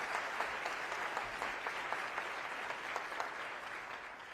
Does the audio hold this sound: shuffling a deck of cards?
no